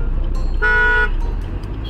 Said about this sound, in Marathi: खूपच ट्रॅफिक लागली इथं.